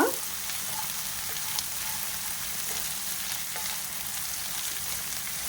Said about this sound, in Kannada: ಕಡಲೆಬೇಳೆ, ಆ ಉದ್ದಿನ ಬೇಳೆ ಎಲ್ಲ ಎಷ್ಟು ಚೆನ್ನಾಗಿ ಕೆಂಪಗಾಗಿ ರೋಸ್ಟ್ ಆಗಿದೆ